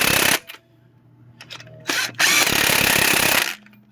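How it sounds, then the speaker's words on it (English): Impact gun driving lug nuts back onto a 2010 Chevy Impala wheel: two sharp bursts of high whirring rattle, a short one and then a longer one of about a second, separated by quieter clinking, heard close and loud. "you can get your old famous impact gun or tire lug nut or whatever you call it"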